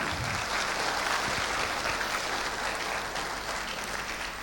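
Crowd applause at a Savitribai Phule birth anniversary celebration at Osmania University, Hyderabad, as a student leader is welcomed onto the stage, a dense, steady clapping from many hands throughout.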